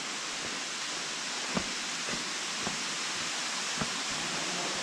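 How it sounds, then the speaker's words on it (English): A larger waterfall in a sandstone gorge at a state nature preserve produces a steady, broad rushing hiss heard from a short distance, with a few faint clicks over the constant roar. "Bigger waterfall."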